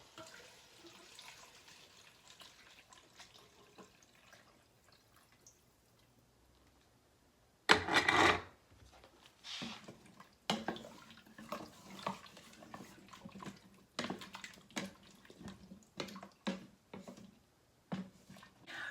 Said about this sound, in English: Add your veggie stock, 3 to 4 cups.